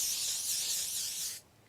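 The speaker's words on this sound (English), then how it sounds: "it's the L'Oreal Paris Infallible 3-second mist. I'm going to go in with that." L'Oreal Paris Infallible 3-second setting mist sprays onto a face in one steady, close airy hiss lasting just over a second before cutting off into quiet room tone.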